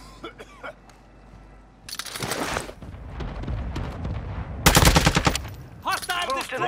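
Video game gunfire erupting in loud bursts, rapid automatic shots and heavy blasts that come and go, with voices talking over the action.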